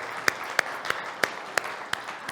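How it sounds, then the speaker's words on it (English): Sparse, individual claps ring out at a charity presentation, six or seven sharp separate hits spaced roughly every third of a second rather than a full crowd roar, fairly close and moderately loud. "So can we give another round of applause for Molly?"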